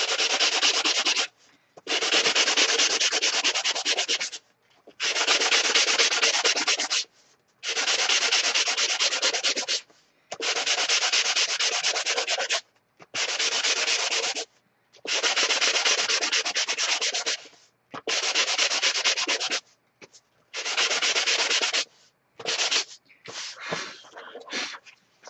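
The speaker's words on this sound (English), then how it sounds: "I am going to sand this" A card for scrapbooking is sanded in about ten separate rasping strokes, each lasting a second or two with short pauses between them. The strokes are close and loud, and the last ones come as quicker, broken scrapes.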